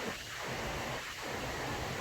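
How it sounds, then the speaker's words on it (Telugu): Heavy rain pouring down outdoors, a dense, steady broadband hiss that stays loud and even throughout, with no voices. "ఎంత అసలు టూ మచ్గా పడుతుంది వర్షం"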